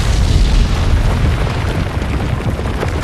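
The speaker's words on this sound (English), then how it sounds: "explosions are gonna rock your entire home theater" Explosion from the film 65 on 4K UHD: a loud, sustained, rumbling blast with deep low-end weight that fills the whole three seconds without letting up.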